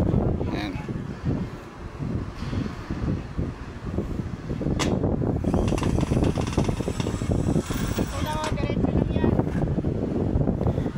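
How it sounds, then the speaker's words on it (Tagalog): Steady, gusty wind high up on an empty trailer truck buffets the microphone with a low roar, while a person talks over it and occasional mechanical whirring rises in the background. "Hangin mahangin talaga pag nasa taas."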